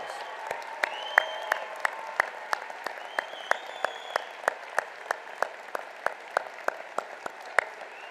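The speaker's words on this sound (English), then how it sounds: "receive one final round of applause" Applause for standing law school graduates at a university commencement: a sparse, fairly quiet ovation with distinct individual claps in a loose rhythm and a few cheers or whistles over the crowd.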